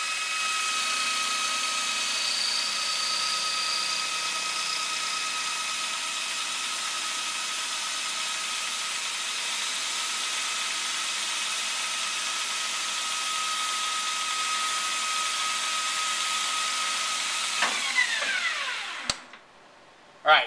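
A metal part being faced to length on a lathe gives a steady, even machine whine with a constant tone for about seventeen seconds, then the pitch sweeps and the sound drops away, ending with a sharp knock.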